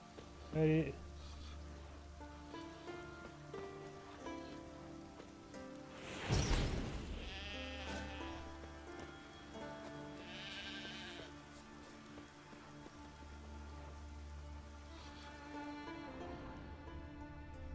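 A sheep in The Witcher video game gives one short bleat near the start. Steady rain-like ambience and a soft game background continue around it, with a louder rustling swell midway.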